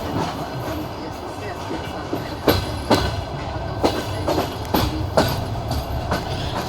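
Passenger train running between Shevchenkovo, Yuzhnoye and Kharkiv, heard from inside by a window, with rhythmic clickety-clack of wheels over rail joints over a steady rolling rumble, while people talk quietly nearby.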